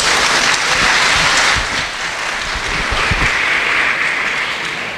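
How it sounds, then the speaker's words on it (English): Crowd applause at a youth dog show after placings are announced, loud steady clapping with some low thumps mixed in, holding for five seconds and easing slightly midway. "Everybody please give them a round of applause."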